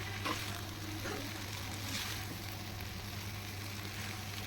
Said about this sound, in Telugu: ఇలా ఫ్రై అయిన తర్వాత మనం మ్యాగీ వేసుకొని కలుపుకుందాం